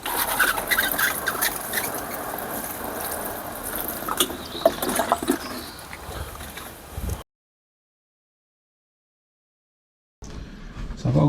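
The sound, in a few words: watering sown seeds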